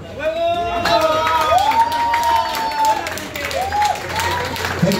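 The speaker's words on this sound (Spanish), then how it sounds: "Gente, el aplauso, chavos" A crowd at a street boxing event in Puebla, Mexico claps and cheers for the fighters, a dense continuous wash of applause with raised voices and an announcer speaking over it.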